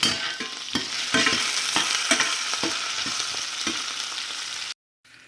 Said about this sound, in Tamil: கடுகு பொரிஞ்சதும் வெங்காயம் கருவேப்பிலை வரமிளகாயும் சேர்த்துக்கலாம்